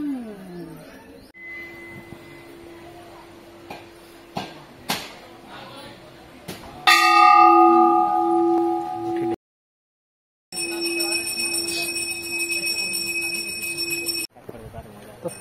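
Metal bells ring at Maa Ghanteswari Temple in Chipilima, Sambalpur, a sustained bright clang with long ringing tones among crowd murmur and scattered knocks, cutting off briefly before the ringing resumes.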